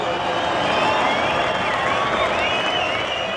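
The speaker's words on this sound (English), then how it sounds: "Give him a nice round of applause." Stadium crowd at a 1997 rugby league State of Origin trophy presentation gives a broad, steady wash of applause and cheering, loud and continuous with faint voices mixed in.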